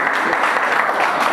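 A dense burst of audience applause at a quiz session in a coaching institute classroom, many hands clapping together loudly and close for a brief moment.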